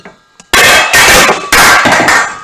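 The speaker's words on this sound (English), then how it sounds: "Sorry about the noise, guys. That was just a big pan." A big metal pan hits a kitchen floor with a loud, harsh clatter, two sharp crashes ringing out in quick succession close by.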